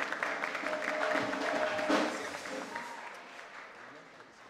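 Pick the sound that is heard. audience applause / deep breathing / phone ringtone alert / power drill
audience applause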